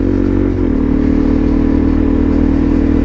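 A DRZ supermoto motorcycle ridden slowly along a muddy trail, its engine a loud, close, steady drone that shifts pitch slightly early on and then holds even.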